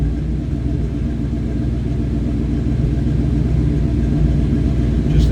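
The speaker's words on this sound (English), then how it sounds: "Just a nice throaty exhaust note." A 1954 Ford Ranch Wagon street rod idles with a throaty exhaust, a steady deep rumble heard close by, continuous and even with no revving or talk over it.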